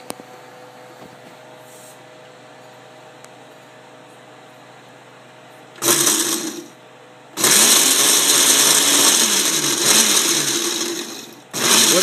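A blender pulses an enchilada sauce mixture seasoned with paprika and other spices, three loud bursts of whirring after a quiet hum, the middle burst running longest.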